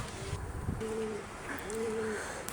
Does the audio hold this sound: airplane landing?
no